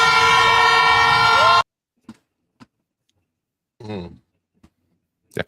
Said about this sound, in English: That fucking air horn's annoying.